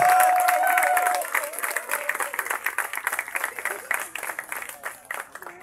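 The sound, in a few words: audience applause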